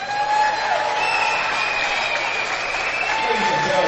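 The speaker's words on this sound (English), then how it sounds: "please join in giving me our Norwell seniors one final round of applause" Crowd at a high school boys' basketball game applauding seniors: steady dense clapping and cheering throughout, loud and sustained with scattered whistles rising above it.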